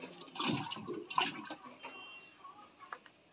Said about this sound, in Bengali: আমি মাছগুলো ঢালছি